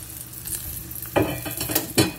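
Hot oil sizzles and crackles steadily, with two sharp bursts of spluttering as green chillies drop into the pan for a tempering on boiled egg curry, close by.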